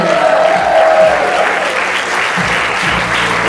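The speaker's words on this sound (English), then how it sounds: "Round of applause for Mr. Johnny Richardson." A theater audience at a stage play gives a round of applause, thick steady clapping throughout, with low background music beneath it.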